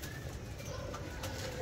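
Pigeons coo softly at a loft of heavy-class racing pigeons, a low continuous murmur of calls over a noisy background, with no clear speech.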